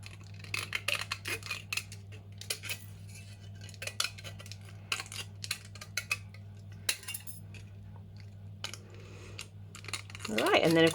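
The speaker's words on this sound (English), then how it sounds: "We're just using our tin snips to do this." Tin snips cut through the thin metal of a tin can, giving a series of sharp, close metallic clicks and snips scattered irregularly over a steady low hum, with a louder rustle at the end.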